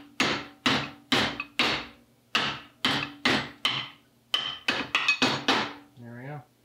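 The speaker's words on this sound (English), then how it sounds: "Just hammer it in." About fifteen sharp metallic hammer blows drive a piston into a Ford C4 three-speed automatic transmission, landing close and loud in uneven bursts with short pauses between groups.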